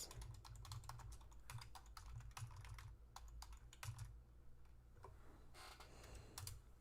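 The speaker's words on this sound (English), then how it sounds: "As you hear typing sounds" Rapid clicking from someone typing on a computer keyboard, with quick bursts of keystrokes and brief pauses, faint and close against a low background hum, no talking.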